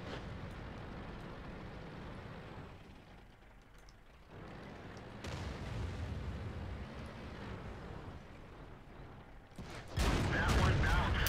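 Tank gunfire and artillery rumble through a World of Tanks battle featuring a Super Pershing, a continuous booming din that swells into a loud blast near the end.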